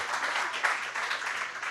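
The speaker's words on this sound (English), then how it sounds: "It's okay to clap." An audience at a story slam breaks into applause, a short, full burst of many hands clapping at an even level with no talk over it.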